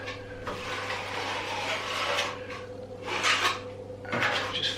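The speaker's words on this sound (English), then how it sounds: "You can hear it scraping on that bead." A plastering trowel or brush scrapes steadily along a metal plaster bead on a wall during skimming, a continuous close rasping with a few louder strokes.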